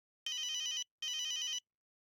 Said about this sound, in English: As they finished their drinks, Oscar's cell phone rang.